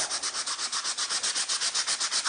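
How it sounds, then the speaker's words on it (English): A leather strop being roughed up with 100-grit sandpaper by hand, rapid rhythmic back-and-forth rasping strokes, close and steady, with no voices. "you have to break down the skin itself using 100 grit sandpaper or something like that"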